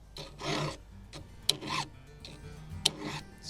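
A hand file scrapes saw teeth clamped in a vise outdoors in the woods, making short, fairly quiet rasping strokes separated by pauses, with a couple of sharp metallic clicks.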